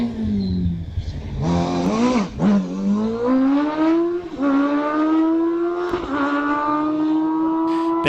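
An Empire EV02 racing car at a hillclimb start line, its engine revving loudly and close with rising and falling pitch, surging up through several high-revving pulls as it prepares to launch.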